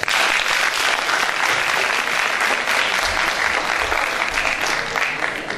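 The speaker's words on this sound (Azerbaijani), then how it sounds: "Gəlin onlara alqışlarımızla dəstək olaq." Sustained audience applause at a university student poetry contest, steady dense clapping from many hands filling the space from start to finish without pause.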